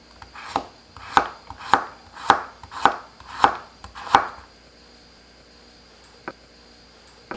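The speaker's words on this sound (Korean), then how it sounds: "당근은 납작하게 썰어주세요." A knife slices carrots into flat pieces on a cutting board, giving six crisp, evenly spaced chops close by, then a pause and one last lighter chop, with no talking.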